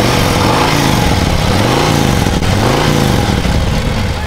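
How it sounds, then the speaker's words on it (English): A 2023 Harley-Davidson CVO Street Glide idles loud and close, its engine pulsing in a steady, lumpy throb with no talk over it. "Let me let you hear this thing run."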